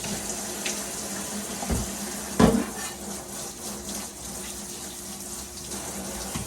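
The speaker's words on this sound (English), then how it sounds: "So we're just gonna quickly clean this off with soap and water." A running sink tap pours a steady stream while something is washed with soap and water, with a couple of brief clunks and splashes from handling, close and fairly quiet with no talk.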